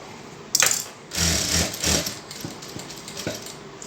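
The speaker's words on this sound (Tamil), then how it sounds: "நான் ஃபுல்லாக தைச்சிட்டு உங்களுக்கு காமிக்கிறேன்" A sewing machine stitches double-sided colored fabric in short, loud mechanical bursts: a quick run, then a longer whirring stretch broken by a pause, followed by softer intermittent ticks.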